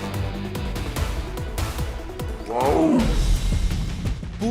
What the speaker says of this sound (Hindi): पूरे देश में बाघ अब और तेजी से गुर्रा रहे हैं।